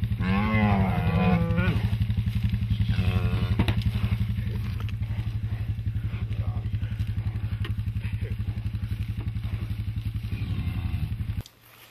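An Angus cow, a polled 1,200-pound mother, gives a long, loud, drawn-out moo and then a second, lower moo, both close by, over a steady low background rumble.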